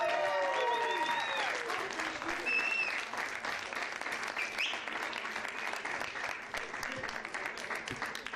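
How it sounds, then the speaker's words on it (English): A crowd at a boxing event claps for a boxer, moderately loud applause with cheers and whoops at the start, then thinner clapping that trails off. "Big round of applause for Cristian Castillo"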